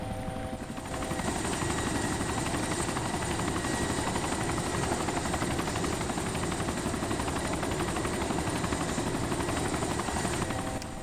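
A helicopter in the survival game DayZ Epoch drones steadily for the whole stretch, its rotor thrum loud, continuous and unbroken, with no one talking.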